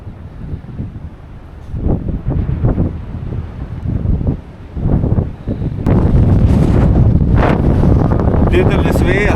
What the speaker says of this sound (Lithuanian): Didelis vėjas labai.